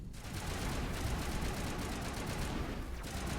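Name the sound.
gunfire from video game Mass Effect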